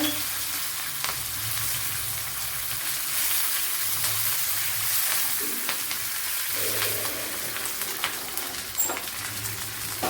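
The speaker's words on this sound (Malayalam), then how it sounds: "പച്ചമുളക് ഇട്ട് കൊടുക്കുക. കറി ലീവ്സ് ഇട്ട് കൊടുക്കുക." Green chillies and curry leaves frying in hot oil for crab thoran. A constant crackling sizzle runs through, with occasional sharper pops and light stirring, steady and close, with no speech.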